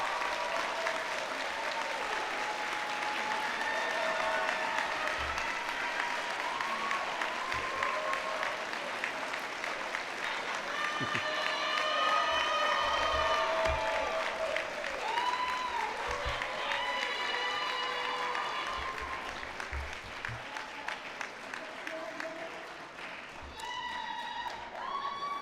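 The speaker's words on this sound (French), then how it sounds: "Je vous invite à les applaudir chaleureusement." A graduation ceremony audience of a faculty of political science and law applauds parents and friends: sustained, dense clapping from a large crowd that holds steady for most of the stretch, then thins slightly toward the end.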